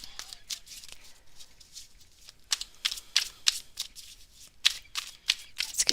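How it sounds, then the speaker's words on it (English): Tarot cards shuffled by hand in a run of crisp riffling bursts and soft slides, close and fairly quiet, with no talking. "I'd like to ask the cards, so I'm going to go check out the cards here, Trina."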